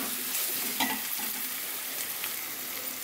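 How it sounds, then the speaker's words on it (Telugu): Ginger-garlic paste frying with onions in a pan, a steady close sizzle with soft stirring scrapes, no voices. "అల్లం వెల్లుల్లి పేస్ట్ వేసుకుని బాగా వేయించుకోవాలి"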